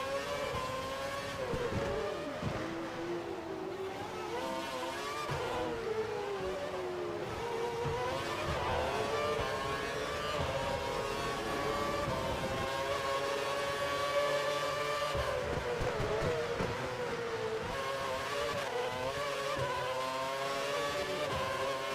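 F1 car engine in the F1 2012 racing game, heard from a chase-cam view at Monaco, a loud high-pitched wail rising and falling through gear changes and revs, continuous and without talk.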